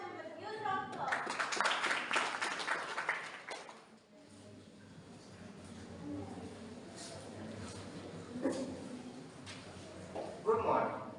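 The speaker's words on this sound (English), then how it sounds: "Please welcome him with huge round of applause" A school audience at an inter-school English elocution contest claps to welcome the next speaker, a short burst of moderate applause that fades after a few seconds, followed by quieter room sound and scattered movement.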